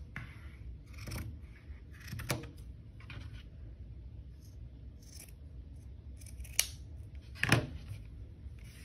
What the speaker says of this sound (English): So I'm going to cut that off real quick.